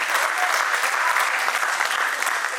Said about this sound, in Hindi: आगे जोरदार ताली बजाएं